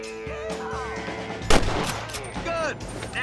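Gunfire in the Western video game Red Dead Redemption, with a loud sharp shot cracking out mid-clip amid scattered game sounds and voices talking.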